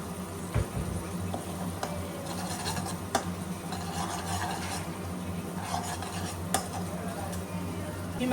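Kashmiri red chilli powder frying in a pan as it is stirred, a steady soft sizzle with scraping and rubbing strokes of a spoon against the metal, close by and with no talking.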